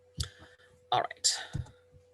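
Computer mouse clicks while a lecturer selects a file on a computer during an online chemistry lecture, sounding as a few sharp, close clicks between bursts of speech.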